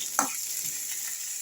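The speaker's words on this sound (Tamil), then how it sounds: "வெங்காயத்தை எண்ணெயில் போட்டு வறுக்கணும்" Onions and tomatoes frying in oil in a pan for a roasted-spice chicken curry, a steady close sizzle with a brief stirring scrape near the start.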